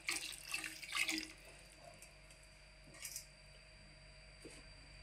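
Water is poured into a pot of tamarind stew with chopped amaranth stalks, a short splashing gush at the start and a brief second pour, then quiet.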